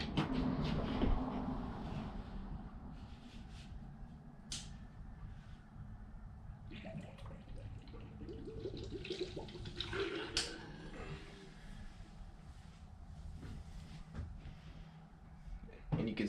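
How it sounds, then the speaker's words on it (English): A Molex-powered PC water cooling pump runs with a little cleaning fluid in it, giving a continuous watery churning and gurgling with occasional splashes and drips close by. "turn on the pump with a little bit of fluid in it a couple times"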